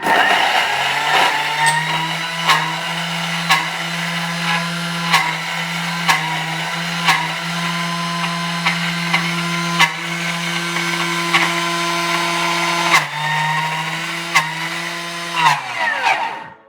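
A black Thermomix blends ginger at speed 10, producing a loud, high-pitched motor whine that holds steady and is broken by a few brief dips and jolts before it winds down at the end.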